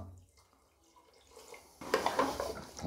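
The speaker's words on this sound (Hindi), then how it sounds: "तो मिलाओ जी आधा गिलास पानी" Water pours into a cooking pot of palak mutton after garam masala has gone in. A quiet lead-in builds to a louder, bubbly splashing pour near the end.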